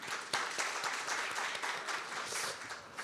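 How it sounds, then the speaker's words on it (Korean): Seminar audience applauding together at a fraud-prevention conference session, a dense, even burst of many hands clapping alone, with no talk over it. "우리 모두를 위해 박수 한번 치겠습니다."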